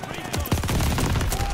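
Rapid gunfire from the multiplayer video game Call of Duty: Vanguard crackles in dense bursts through game audio, loud and continuous.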